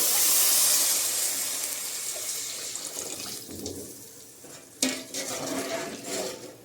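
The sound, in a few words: water being added to a cooking pot with tomatoes and chillies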